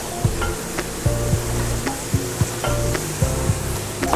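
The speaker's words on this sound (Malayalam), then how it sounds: "ചെറുതായിട്ട് നമുക്കൊന്ന് ഇളക്കി കൊടുക്കാം." Vegetables and cauliflower for a veg pulao sizzle steadily in a pan, with a spoon scraping and clinking against the metal in an irregular rhythm, close and fairly loud with no talking.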